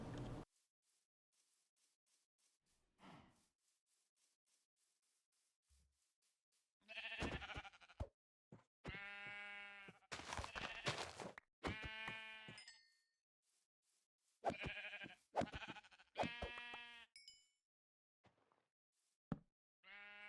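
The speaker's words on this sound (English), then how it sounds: "Sheep." Minecraft sheep bleat repeatedly in the video game, with clusters of loud, close bleats after a quiet start and a few faint knocks between them.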